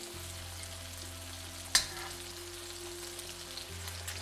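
A metal spoon stirs and breaks up eggs scrambling in a hot frying pan for pad thai, with a steady sizzle throughout and one sharp scrape or clink of the spoon near the middle.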